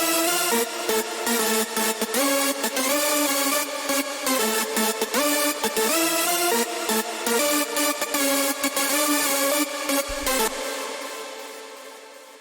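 Distorted hardstyle/rawstyle lead synth from a production template, loud and dense with choppy rhythmic gating, a pitched melodic line over a brief kick near the end, then a decaying tail; no voices.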